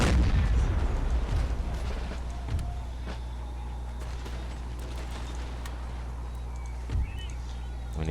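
Musket and artillery fire in Empire: Total War: a heavy boom at the start, then scattered distant shots and sharp cracks over a steady low rumble, with another thud near the end.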